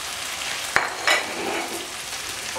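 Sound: onion and garlic frying and being stirred in pan

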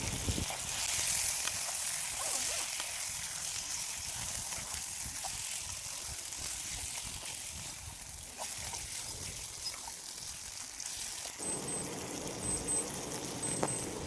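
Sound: half kilo of chicken sizzling in pan for curry

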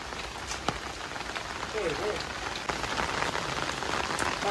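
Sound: heavy rain

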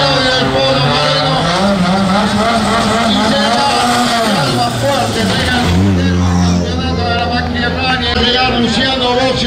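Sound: rally car departing from stage start

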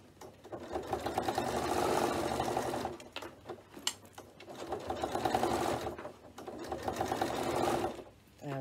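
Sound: sewing machine stitching binding on a bag

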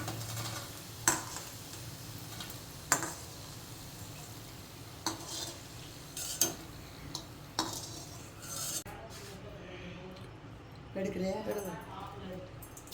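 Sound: roasting and stirring bitter gourd until brown

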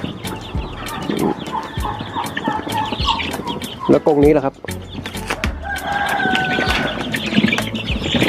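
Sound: laying-breed chickens and chicks in cages

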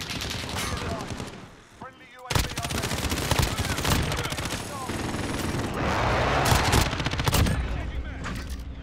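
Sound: elevated sentry gun firing in Modern Warfare video game

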